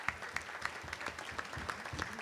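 A Las Vegas comedy show audience applauds a record-breaking Coats for Kids charity weekend, clapping steadily with a few sharp, distinct claps standing out from the crowd at a fairly regular beat.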